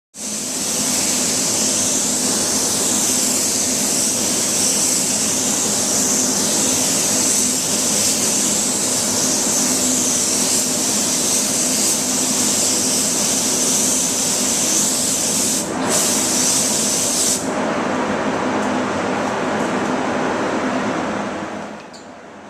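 A spray gun lays down a flowing coating in one long, steady hiss that holds for about twenty seconds, cuts out briefly, then stops; loud and close, with no speech.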